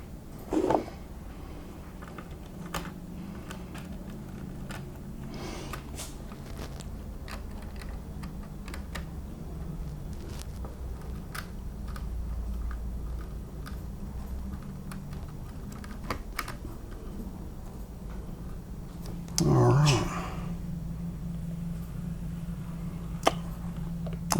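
A Phoenix Victorian Railways D3 class model steam locomotive runs smoothly with a low, steady hum and faint ticking, close and quiet, with a brief brighter mechanical sound near the end.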